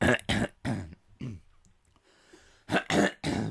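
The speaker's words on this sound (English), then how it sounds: "clearing my throat there" A man clears his throat several times in short, rough bursts during a Resident Evil let's-play commentary, close and fairly loud with brief pauses between.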